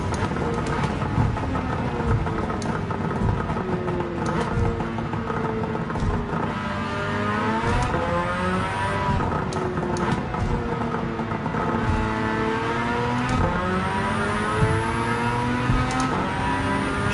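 Race car engine in Gran Turismo 7 on the Tokyo 600 course, revving and accelerating through repeated rising and falling pitch sweeps as gears change, loud and continuous with no talking.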